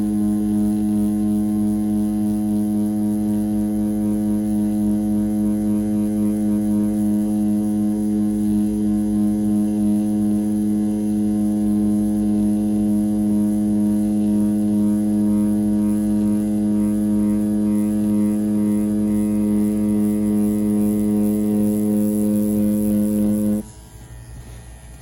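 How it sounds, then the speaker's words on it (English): A Dragonhawk Mast tattoo machine buzzes steadily and close while packing black ink into skin, a constant harmonic electric whine lasting over twenty seconds before cutting off abruptly near the end. "I'm definitely liking how this machine packs black as well."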